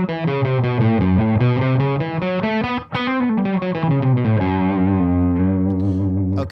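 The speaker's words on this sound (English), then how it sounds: "they would often distort some of the notes or bend some of the notes around" Distorted electric guitar plays a run of blues notes with pitch bends, each note ringing and sliding before the next, loud and alone with a brief dip midway.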